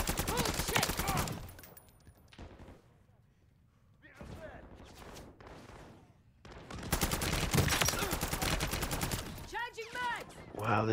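Gun firing in Call of Duty MWZ, dense automatic bursts at the start and over the second half with a quieter stretch between, loud and close, under players' voices.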